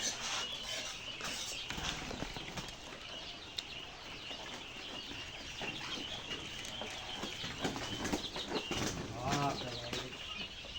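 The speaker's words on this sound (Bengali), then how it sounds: "পাখিগুলা উড়ে এদিক চলে আসে।" Birds flapping and flying about a goat farm after the dung has been cleared, a busy continuous flutter of wings mixed with scattered chirps and farmyard noise, fairly close throughout.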